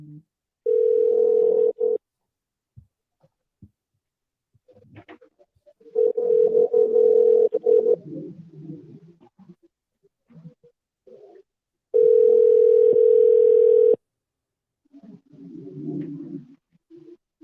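A telephone rings out on a call back to an unknown number: long, steady ringback tones sound in separate bursts, close and clear. Between the tones there are quieter, muffled rustles and noises.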